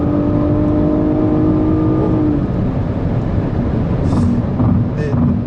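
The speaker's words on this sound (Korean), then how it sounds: "자, 지금은 가속을 해보겠습니다. 엔진 사운드가" A Nissan Maxima 3.5 engine accelerates steadily, with a loud rising hum and a wind and road roar that fill the whole clip, heard from inside the car.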